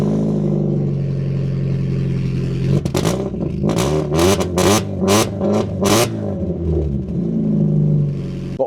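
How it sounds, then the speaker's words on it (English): A Mk1 Mazda MX-5 with a loud aftermarket exhaust idles with a deep rumble, then blips the throttle in a run of sharp, close revs before settling back to a steady burbling idle. "It's got a pretty loud exhaust on it."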